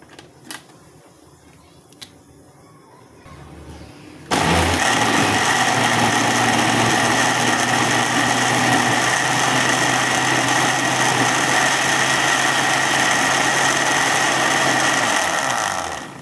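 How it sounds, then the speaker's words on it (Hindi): An electric blender jar whirs loudly as it grinds tomatoes and garlic, switching on abruptly after a few seconds of quiet clicks and running as a steady, dense motor roar before stopping at the end. "इनके जग में घुमा के इसकी मिक्सिंग करेंगे ताकि जो लहसुन टमाटर अच्छे से पीस जाएं"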